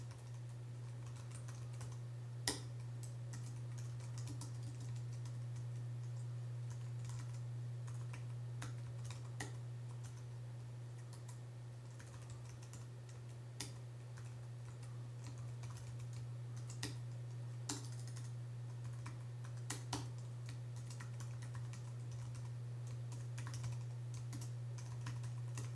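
Steady keystrokes from someone typing code on a computer keyboard, soft continuous clatter with occasional sharper key hits, close up over a constant low electrical hum, no talking.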